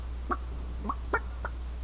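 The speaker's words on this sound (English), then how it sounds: "Don't let that rooster escape." A rooster in the game Divinity Original Sin gives four short, distinct clucks spaced irregularly over a low steady hum, close and moderately loud.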